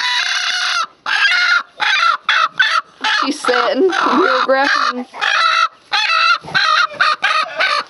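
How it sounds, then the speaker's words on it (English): An Americana hen and others cluck and squawk loudly and close by inside a chicken house, in bursts with short pauses, while a person briefly speaks among them. "Got a little Americana hen inside the chicken house."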